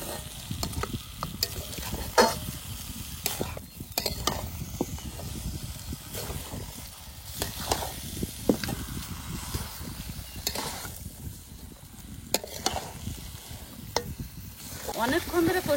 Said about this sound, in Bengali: খাসির মাংসটা আস্তে আস্তে জাল দিয়ে খুব ভালো করে কষিয়ে নেবো আজকে মাংসগুলো